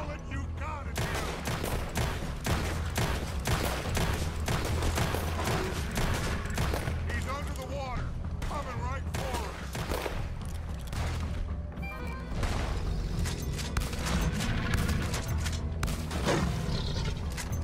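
Rapid, sustained gunfire pours bullets at a swamp monster, dense overlapping shots and bursts running loud and close throughout amid crashes and other action noise.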